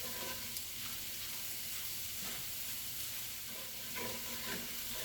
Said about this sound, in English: I'm going to combine the flour and cook it for about a minute in my pan.